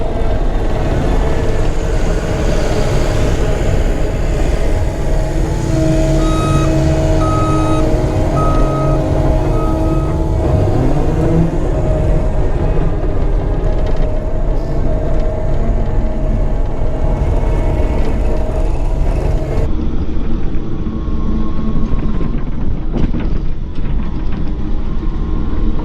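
A CAT 285 track loader drives over offsets with a loud, steady engine drone and track rumble, its undercarriage clanking and squealing over uneven ground. The tone shifts partway through and no one speaks.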